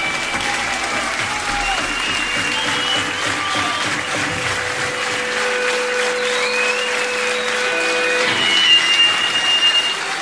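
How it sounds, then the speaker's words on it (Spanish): Loud, sustained crowd applause and cheering at a live concert, steady clapping filling the whole stretch with a few whistles and shouts rising near the end. "Un aplauso muy fuerte"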